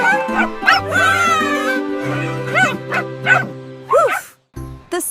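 A cartoon dog gives several short, yappy barks and whines in quick succession, close and clear, mixed with animated character voices and music.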